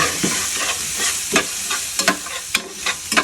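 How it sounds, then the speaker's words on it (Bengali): Spicy food is stirred in a pan, a run of loud close scraping strokes and clinks over a soft background sizzle, irregular in rhythm, with no talking. "এখন এগুলোকে আমি একটু নেড়ে চেড়ে তারপর ঢাকবো"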